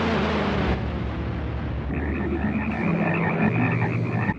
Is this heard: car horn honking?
no